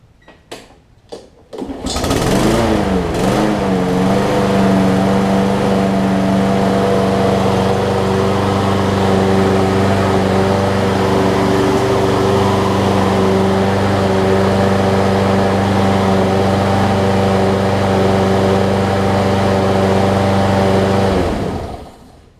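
A Troy-Bilt XP push mower, just fixed after a broken 25mm blade adapter made it hard to pull, cranks after a few quick pulls and catches. It then runs loud and steady at close range until it cuts off.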